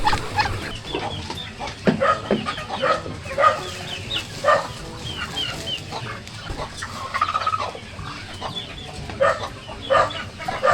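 A flock of chickens clucks and squawks at feeding time, with overlapping calls near and far, gobble-like cries and a dog's bark amid the clamour.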